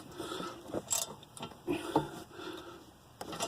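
A ratchet tightens a bolt on the rear brake of a 1991 Honda Accord, giving a quiet, irregular series of clicks and metallic ticks at close range with short pauses between strokes.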